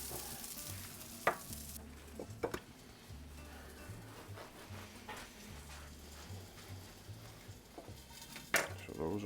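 Chicken burgers sizzling in an oiled pan make a faint, continuous fry, broken by a few sharp clinks of a utensil against the pan, with occasional quiet speech in the background.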